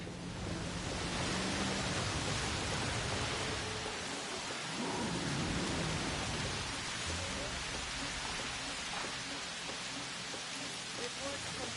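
Steady heavy rain from a storm in Jurassic World Evolution, a dense hiss of downpour throughout with a low rumble of thunder in the middle.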